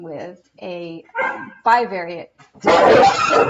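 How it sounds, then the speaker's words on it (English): Pet dogs bark in a short loud burst near the end, right after a person lectures on bivariate probability distributions. "Excuse my dogs."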